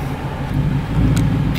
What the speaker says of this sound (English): I just can't handle the muffly engine